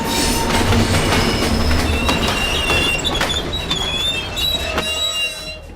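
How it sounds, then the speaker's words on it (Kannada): A passenger train rolls into a station, loud and close, wheels squealing and screeching in high sustained tones over rumbling carriages and rhythmic clacking as it slows. "ನನ್ ಟ್ರೈನ್ ಬಂತು."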